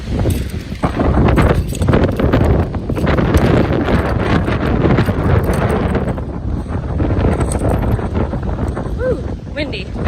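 Strong wind at a bay buffets the microphone in a loud, continuous rush that surges and eases over several seconds, with a voice breaking through at times.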